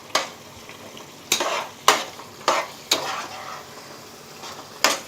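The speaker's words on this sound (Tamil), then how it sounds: "தூவிட்டு அப்படியே கலக்கி விடுறேன்" Capsicum manchurian in a pan is stirred after coriander leaves are sprinkled in. About six distinct scraping strokes of the spoon sound close and clear over a low background sizzle.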